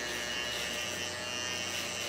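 A Wahl 5-star Shaper Shaver electric shaver hums in a steady, even buzz while shaving a head for a bald fade, close and constant throughout.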